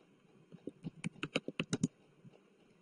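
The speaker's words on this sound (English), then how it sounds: "I will go to the search bar and I'll type Scratch" Computer keys clatter in a quick run of about a dozen close taps, bunched into an uneven burst lasting roughly a second and a half, soft and alone against a faint room hum.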